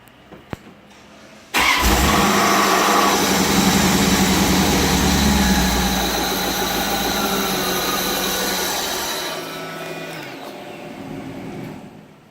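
Engine of a 1994 Chevrolet Corvette with hard starting and lack of power, starting abruptly then running loud and close with a raised, revving roar that gradually eases toward the end.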